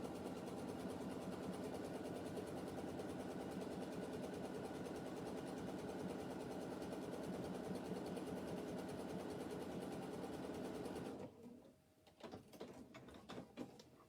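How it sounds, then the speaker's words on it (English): A sewing machine stitches fabric close to the edge, avoiding a picot trim, running in a steady, continuous close-up whir for about eleven seconds before stopping, followed by a few faint handling clicks. "I'm just stitching quite close to the edge, not catching that picot bit."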